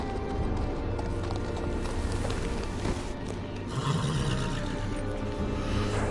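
Galloping horse hooves in a Game of Thrones video game, riding toward the Wall at the seat of the Night's Watch; a steady, dense hoof rhythm runs continuously and loud under ambient game sound, with no talk.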